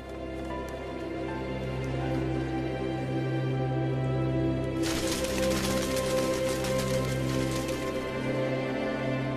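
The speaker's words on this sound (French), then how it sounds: "les premières gouttes d'eau se transforment vite en pluie torrentielle" Torrential rain breaks over a savanna at the end of the dry season, bursting in partway through as a sudden broad hiss of downpour layered over a sustained musical drone.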